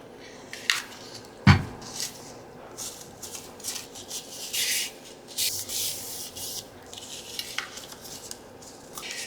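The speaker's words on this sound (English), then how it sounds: "Just push down well so the two pages get glued together." Glued paper pages are pressed and rubbed flat by hand for an envelope craft, with repeated close, soft rubbing and scraping strokes and a few sharp taps.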